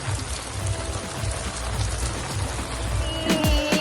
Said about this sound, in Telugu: వర్షం పడుతుంది గాయ్స్.